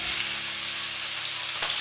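Minced garlic sizzling in prawn oil in a wok over moderate heat, a steady close crackle and hiss with a faint scrape of a spatula near the end.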